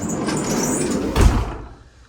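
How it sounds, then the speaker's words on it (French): A window and door are shut in a kitchen-like space fitted with fly screens, a dull thump landing midway through steady rustling noise before the sound falls quieter. "je vais fermer la fenêtre et la porte."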